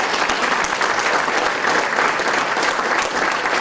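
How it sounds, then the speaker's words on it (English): Audience at a city hometown-heroes recognition ceremony claps steadily for an honoree coming forward, dense and sustained applause filling the room without talk. "give her a round of applause"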